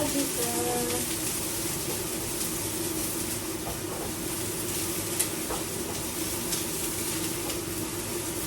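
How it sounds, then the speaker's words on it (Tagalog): Onions sauté in a pan at home, a steady close sizzle and crackle with faint stirring scrapes, continuous and even throughout with no talking over it. "gisa-gisa muna natin ang ating sibuyas"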